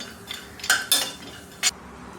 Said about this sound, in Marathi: आता इथे कढई घेतलेली आहे थोडंसं तूप घातलेलं आहे आणि हे काजू आणि बदाम आणि थोडे पिस्ते अगदी अर्धा मिनिट परतून घेणार आहे तुपावर